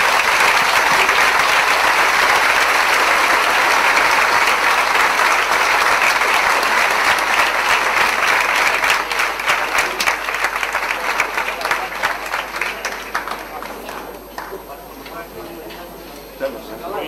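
A seated audience at an educational program presentation gives sustained, dense applause for a founder, loud at first and thinning out near the end; no voices cut through the clapping.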